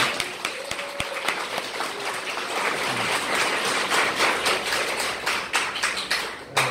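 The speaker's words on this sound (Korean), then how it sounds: "큰 박수 부탁드리겠습니다" Audience applause at a land-investment seminar greeting a guest lecturer, steady dense clapping from a seated crowd filling the room for several seconds, fairly even and moderate in level.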